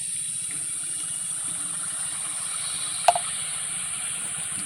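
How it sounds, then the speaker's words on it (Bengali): Flour dough for a sweet village snack goes into hot oil, giving a steady, soft sizzle and hiss close by, with one brief sharp tick partway through. "তেলটা গরম হয়ে গেছে, এবার ময়দাটা পাক করে রেখেছি, দিয়ে দেবো তেলে"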